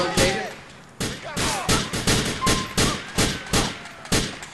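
Repeated pistol shots in Grand Theft Auto IV, about nine sharp reports firing at an irregular pace over a few seconds, loud and close over a faint game background.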